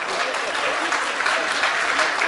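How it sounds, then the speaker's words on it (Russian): Audience applause at a fight tournament, a dense, even roar of clapping from a crowd that carries steadily from start to finish without a break. "Ваши аплодисменты, друзья,"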